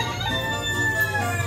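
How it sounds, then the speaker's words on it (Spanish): Roosters crow in the distance in El Recodo, Sinaloa, their drawn-out calls layered over a steady low background hum. "hasta el cantar de los gallos se escucha."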